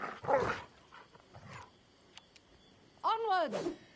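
Dog barking in the video game Pathfinder: Kingmaker during combat, two loud bark-like bursts at the start and end with a whimpering cry, mixed with fainter game sounds and vocal sounds in between.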